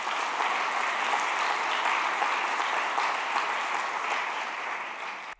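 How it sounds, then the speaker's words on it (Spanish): A church congregation applauds steadily for about five seconds, a dense, even wash of many hands clapping at moderate volume before cutting off abruptly at the end. "dale un aplauso, Él te va a sostener"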